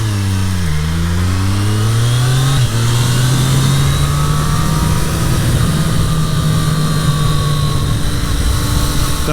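A 2023 Triumph Street Triple 765 RS motorcycle engine while riding, loud and close, with a rising and falling revving whine as the throttle opens and closes, over steady wind roar.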